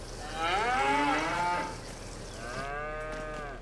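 Cattle in the Farming Simulator 25 video game give two long, deep moos in succession, the first louder, over a steady low ambient hum.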